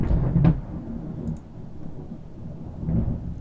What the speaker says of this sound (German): Okay, Gewitter ist da, würde ich mal sagen.